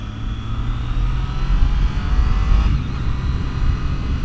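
A 2013 Triumph Street Triple R motorcycle pulling away in first gear, its engine giving a steady, close, rising drone for several seconds with no talk over it.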